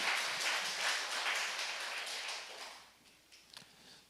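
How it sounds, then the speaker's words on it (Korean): Church congregation clapping in praise at a Korean worship service, a soft, distant wash of many hands that fades out and ends with a few scattered taps. "우리 하나님께 영광의 박수를 드리시기 바랍니다"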